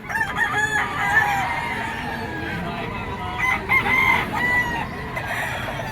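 Roosters at a crowded poultry pet market crow repeatedly, overlapping with clucking fowl and a dense crowd murmur throughout.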